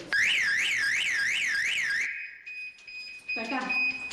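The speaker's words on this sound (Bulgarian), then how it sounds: "сега алармата ще се чуе." A door security alarm blares a loud warbling wail for about two seconds, then drops to a steady high electronic tone, with a voice briefly speaking near the end.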